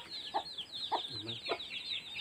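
A chicken gives a few soft, spaced clucks against a steady high-pitched hiss of insects or background noise.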